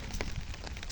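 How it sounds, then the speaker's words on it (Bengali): Steady, even patter of rain falling on a surface, a soft continuous hiss without voices. "এখন বৃষ্টি শুরু হয়ে গেছে"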